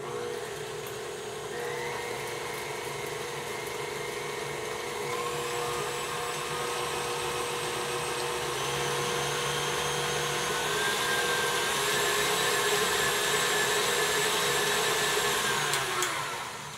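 Electric mixer steadily whirring as it blends butter, vanilla, heavy cream and salt into chocolate buttercream, a continuous close motor hum that climbs slightly in pitch partway through, with no talking.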